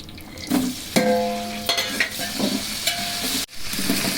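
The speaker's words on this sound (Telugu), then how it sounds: "ఉల్లిపాయలు కూడా వేసుకుంటే బాగా అన్నీ వేగబోతాం" Sliced green chillies and onions sizzle in a pan of hot oil as they fry for a biryani, with stirring scrapes and clinks over a steady frying hiss.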